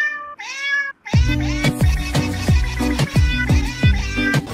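A cat meows repeatedly on a balcony, a series of close, loud, drawn-out cries in an irregular rhythm, with a brief pause before the calls grow steady.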